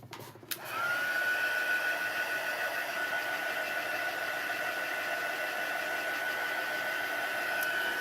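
A hair dryer runs steadily at close range, drying clay-covered seed pots coated with spackling and air dry clay, a continuous loud whooshing blow with a faint whine after a brief click as it switches on.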